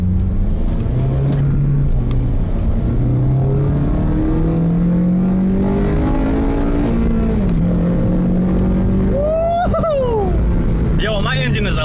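An 8th-gen Honda Civic Si with a Skunk2 cold air intake revs through the gears, the engine note climbing repeatedly and rising into a sharper high-RPM howl near the end, heard loud from inside the car.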